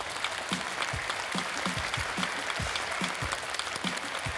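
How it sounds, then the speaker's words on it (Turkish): Studio audience applause on a Turkish television game show, a dense, even crackle of many hands with scattered sharper claps. It sounds fairly distant and soft and carries on steadily without a break, with no voices over it. "Doğruya bir alkış."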